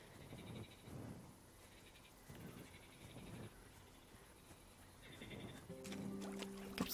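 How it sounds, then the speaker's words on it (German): Frogs croak at a riverbank in Kingdom Come Deliverance, a few rough calls repeating at intervals over a quiet outdoor ambience, followed by a brief musical tone near the end. "Gibt es zumindest Frösche."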